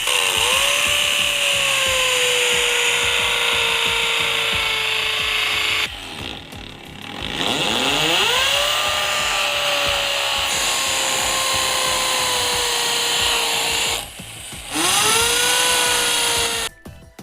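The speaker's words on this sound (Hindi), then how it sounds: "तो ये देखें कि इसके साथ ड्रिल के साथ होल्स क्रिएट किए जा रहे हैं।" A power drill bores holes into a roof for a wifi tower base, a loud whining drone that rises then settles, in three long bursts separated by brief pauses.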